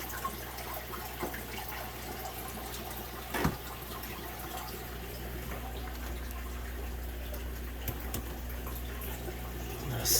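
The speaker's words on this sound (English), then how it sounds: "take this hose out of here and we'll start opening more valve and draining some more tanks." Water drains from aquarium fish tanks through a hose in a fish room, a steady, continuous rushing flow with a low hum underneath and a few faint knocks.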